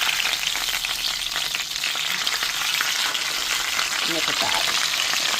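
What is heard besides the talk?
pot roast meat searing in a hot pan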